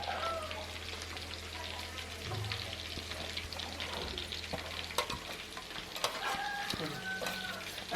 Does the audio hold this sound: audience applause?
no